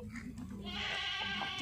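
A pregnant Gujari breed goat on a farm lets out a short, close bleat in the second half of a brief moment, with some voices faintly audible around it.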